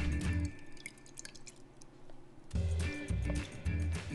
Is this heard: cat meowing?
no